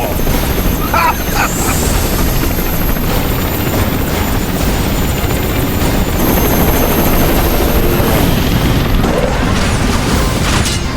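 Hunter helicopter in the video game Ninja Gaiden 3: Razor's Edge, a loud, continuous rotor roar held steady throughout, with crashing impacts and game effects mixed in.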